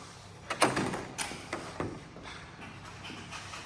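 Greenhouse ventilation window being closed, a series of soft, close knocks and sliding taps as the frame is shut, with a quiet background between the hits.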